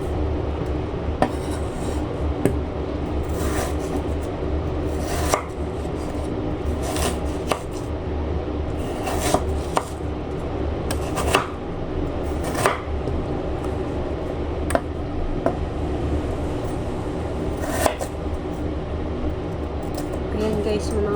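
A knife cutting potato and other ingredients in half for tortang giniling, a Filipino minced-pork omelette. Sharp, isolated taps on a board recur every couple of seconds, close and clear, under steady talking.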